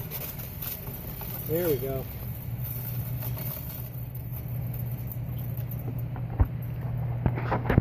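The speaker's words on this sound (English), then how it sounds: "Oh, the compressor started." Compressor of an old ice cream freezer starting and running, a steady low mechanical hum beneath someone speaking briefly, with a few faint clicks and knocks near the end.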